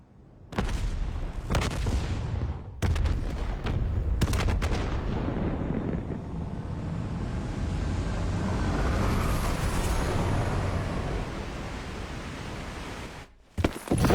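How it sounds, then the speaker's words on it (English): Explosions tear through a facility in the Call of Duty Black Ops 3 campaign: several sharp booms at the start, then a long, loud rumbling roar of blasts and debris that fades before a final burst. "Hendricks, we have multiple explosions across the facility."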